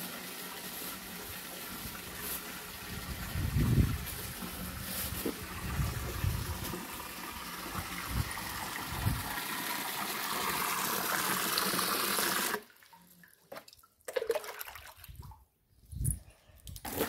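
Water pours and splashes continuously into a tub of clothes set to soak, a steady rushing flow with a few knocks, then stopping abruptly into quiet with scattered handling sounds.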